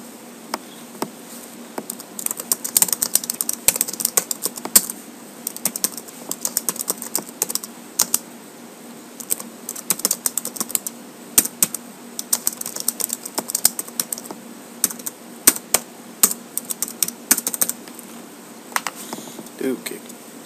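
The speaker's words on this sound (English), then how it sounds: "Gotta go type in Skype really quick." Rapid keystrokes on a computer keyboard clatter in irregular bursts through most of the stretch, close and fairly crisp, over a steady faint background hum.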